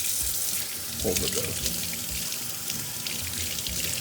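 Water runs steadily from a kitchen tap while hands are wet before handling sourdough bread dough, a continuous close hiss and splash throughout as a person talks over it.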